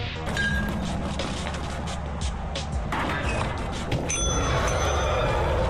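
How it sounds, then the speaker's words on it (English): A ship bell rings in the horror video game Lethal Company: bright, metallic strikes with lingering tones that sit over a constant loud rumble of in-game noise and clatter. "Who rang the bell?"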